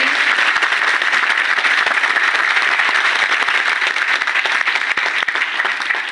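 Seminar audience clapping together in a hall, a continuous loud wash of many hands applauding evenly for the full stretch, no voices over it.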